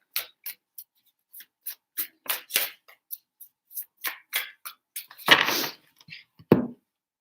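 Tarot cards being shuffled make a series of quick, crisp, close riffling and slapping bursts in an irregular rhythm, with a longer rustling shuffle near the end.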